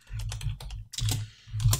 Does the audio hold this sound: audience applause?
no